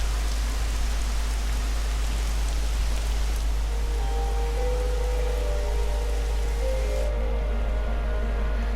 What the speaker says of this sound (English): And now all the rain comes